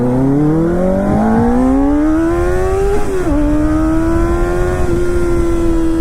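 A Kawasaki Ninja ZX4R motorcycle revving hard, its high-pitched engine note climbing steadily, dipping briefly at a gear change around the middle, then holding and rising again, loud and close with no talking.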